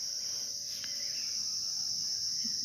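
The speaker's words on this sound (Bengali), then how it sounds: "ঝিঝি পোকার ডাক শুনতে পাচ্ছ?" Crickets chirp in a steady, unbroken high trill through a quiet early morning, constant and moderately loud throughout.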